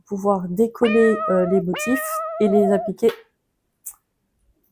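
A house cat meows several times in a row, loud and close, with drawn-out, rising cries, while someone speaks French in between during a crafting session.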